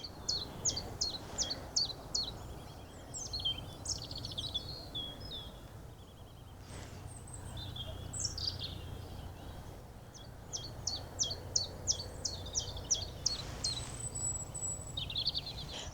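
Birds sing outdoors in repeated bursts of high chirps and trills at moderate distance, backed by a soft, steady hum of insects and faint outdoor ambience.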